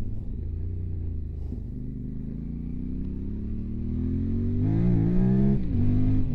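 A QJ Motor motorcycle on its stock exhaust idles with a low rumble, then the engine climbs in a smooth rising rev before surging briefly higher and settling back, loud and close with no talking.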